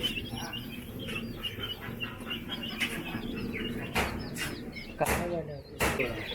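Chicks at the Yelagiri bird sanctuary chirp in a dense, high, overlapping chorus while being hand-fed, close by, with occasional soft thumps and rustling.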